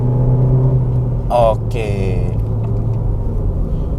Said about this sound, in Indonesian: Biasanya kan ada mobil-mobil tertentu yang kalau digas ada lagnya dulu dia baru ngeraung mesinnya, tapi kalau ini nggak